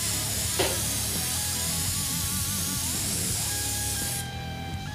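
An airbrush sprays a yellow-orange paint mixture in a steady, close, continuous hiss that runs without a break, then drops off slightly near the end.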